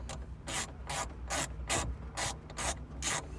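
Deep socket ratchet turning nuts off a Toyota 5th Gen 4Runner tail light, a close, quiet rhythmic clicking and rasping in about seven even strokes with no talk.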